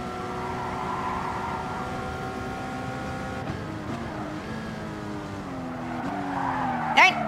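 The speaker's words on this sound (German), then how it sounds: "Ich gebe Gas, Schatz. Ich habe das Pedal voll durchgedrückt." Race car engine in the Gran Turismo video game held at full throttle, a steady droning whine with rising pitch, a brief tire squeal near the end, continuous and fairly loud.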